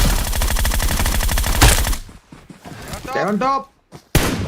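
Rapid machine-gun fire from a PUBG match, loud evenly spaced shots for about two seconds, then it stops abruptly and someone speaks briefly before another short burst.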